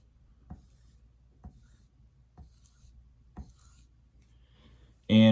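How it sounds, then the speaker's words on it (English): A pen writes out a matrix by hand for a homework problem, leaving four faint, evenly spaced strokes against near silence before a sudden loud noise cuts in at the very end. "So we're going to just write out this matrix"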